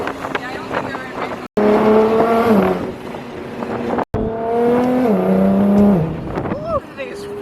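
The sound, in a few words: Audi R8 twin turbo car engine revving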